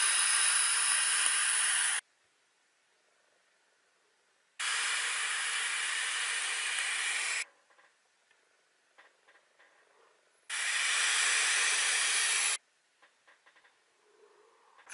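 A Smoktech Stick Prince e-cigarette drawn with its airflow fully open gives three long, loud, airy hisses of roughly two to three seconds each, separated by near silence with faint small clicks and rustles.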